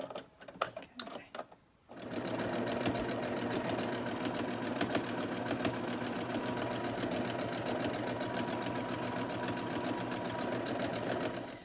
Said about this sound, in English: I just press the footer and the machine does all of the work